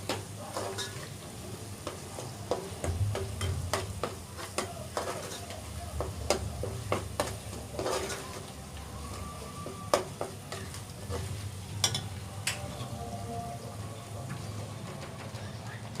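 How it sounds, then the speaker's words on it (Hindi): Masala with tomato and okra sizzles and fries in a pan while being stirred, a steady close crackle with scattered clinks of the spoon against the pan. "मसाला भुनने वाला है, देखें।"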